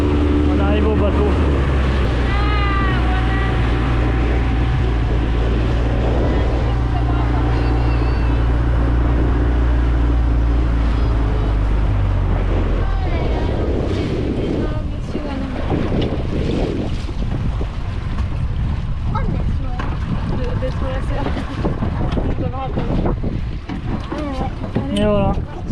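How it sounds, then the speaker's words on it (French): A boat at Malendure sits on the water as strong wind buffets the microphone with a heavy low roar, while waves wash and slap nearby; people talk intermittently over the gusts. "On arrive au bateau."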